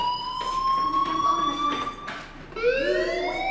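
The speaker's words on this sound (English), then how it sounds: "Hey, do you hear that fire alarm?" An electronic fire alarm rings in the video game Life is Strange: a steady, piercing tone that wavers, dips, then swells back louder in sliding pitches, with no talking.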